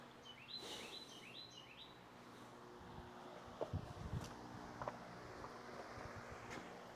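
A bird gives a quick series of sharp, high chirps near the start, then lets out a few scattered calls over a low, steady background hum in a quiet indoor or yard setting.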